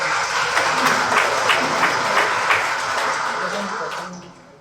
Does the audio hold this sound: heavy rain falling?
no